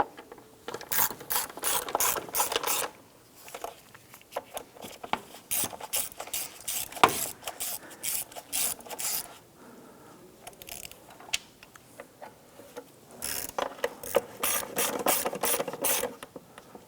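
A hand ratchet tightens the plastic intake manifold bolts on a 2007-2012 Nissan Versa during fuel injector replacement, with rapid clicking strokes in repeated bursts separated by short pauses.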